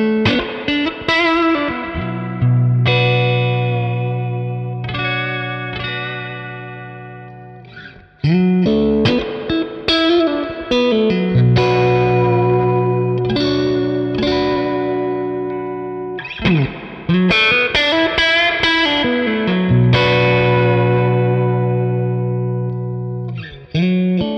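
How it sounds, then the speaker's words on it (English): Electric guitar with Macmull P90 pickups, heard on a Superlight S-Classic and a Heartbreaker Custom, played straight into a Lazy J10 combo amp: loud, sustained chords and ringing notes with driven tone, playing alone throughout. "I've plugged straight into a Lazy J10 combo for all the sounds you're about to hear."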